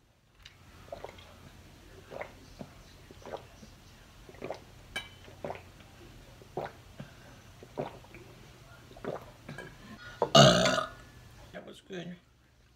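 A loud, drawn-out belch near the end comes after eating a meatloaf made without its green peppers or bacon, standing out above soft, intermittent chewing and kitchen clicks; someone speaks briefly afterward.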